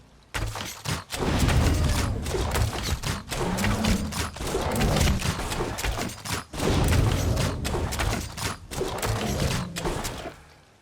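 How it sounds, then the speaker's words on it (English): Repeated light attacks chained with the Silver Shards skill in The Elder Scrolls Online, producing a steady series of loud thumping impacts and bursts spaced regularly across about ten seconds, with no voice over them. "let's test it out with, for example, silver shards"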